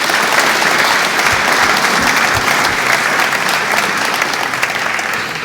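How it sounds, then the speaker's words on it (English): A graduation ceremony audience applauds honors graduates of a Master's program in Human Movement Sciences; dense, loud, sustained clapping fills the hall steadily and tapers slightly at the end. "So, round of applause for them."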